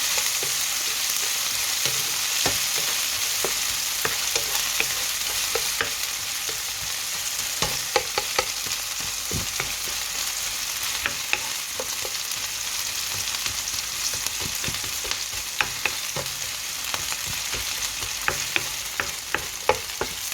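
Onions sizzle steadily in hot oil in a pan while preparing chicken noodles, a dense continuous frying hiss with scattered crackles and occasional stirring clicks, fairly close and without talk.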